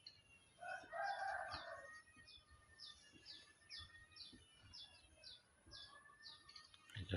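A domestic rooster crows repeatedly near a house, a series of loud cock-a-doodle-doo calls at the start, then fainter crowing and scattered bird calls over outdoor background noise with no talking.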